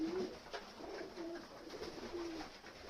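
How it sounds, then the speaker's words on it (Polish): Pigeons coo softly while feeding, with three low repeated coos over a faint, steady outdoor background. "Także gołąbki sobie jedzą spokojnie."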